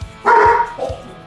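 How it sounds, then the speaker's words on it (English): Dogs eager for brisket trimmings let out a loud close bark followed by a shorter softer yip, in an outdoor cooking setting. "The dogs are excited because they know they're gonna get some of these trimmings"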